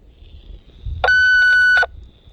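A short, loud electronic buzz-beep from a ROSS RE-999 walkie-talkie call buzzer sounds once for under a second, sharp and close, against a quiet background.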